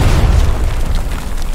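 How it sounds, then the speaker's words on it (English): Artillery shells from the video game Hell Let Loose explode in a heavy, continuous low rumble, loud and close, with booming impacts rolling through the whole stretch and no voices. "you suddenly hear the horrifying sound of incoming artillery shells"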